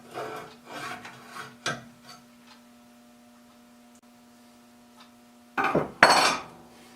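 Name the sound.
plane blade being slid along and ground at the bevel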